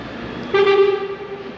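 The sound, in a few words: vehicle horn honking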